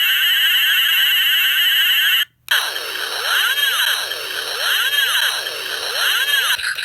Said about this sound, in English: Hit the momentary switch and you will hear the multiple sounds when you press it.